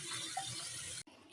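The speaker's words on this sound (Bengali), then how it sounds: "এখন ধুয়ে নিতে আসি সুন্দর করে পানি দিয়ে।" Rohu fish rinsed under running tap water, a steady close splashing stream that cuts off abruptly near the end and resumes softly, with no voices.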